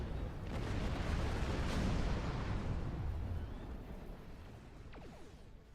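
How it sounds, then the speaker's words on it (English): A plasma torpedo explodes in the space game Star Trek Online, a deep rumbling boom that swells and then slowly fades away, heard alone without talk. "Oh no, I'm in danger! Ah! Oh, come on! A plasma torpedo."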